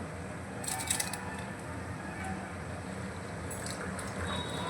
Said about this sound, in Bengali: এই চালটা দিয়ে দিচ্ছি পুরো চালটা আমি হাঁড়ির মধ্যে দিয়ে দিয়েছি